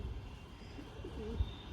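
A male Giribaz pigeon coos softly at close range, a few low warbling calls rising and falling in a quiet indoor space with faint background hum.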